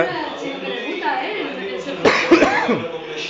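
A burst of a few harsh coughs cuts through ongoing conversation and background chatter, fairly close.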